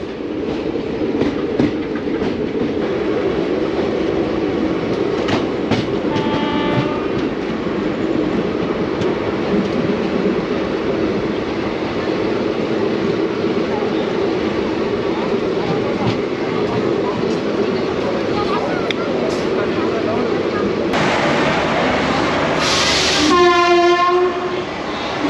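The 22718 Secunderabad-Rajkot superfast express roars along with a steady loud rumble and rattle heard from on board, and its horn blares near the end.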